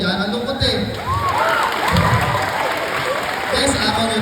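Students clapping at a Grade 11 school recognition ceremony, a lively burst of applause with scattered cheers and shouts from a crowd, close and loud, with a voice talking over it.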